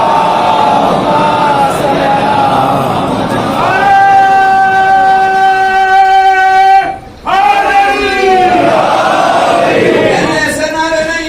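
A large gathering at a Rabi ul Awwal religious assembly shouting slogans in unison, loud sustained voices with tonal chanting that breaks off briefly then surges again.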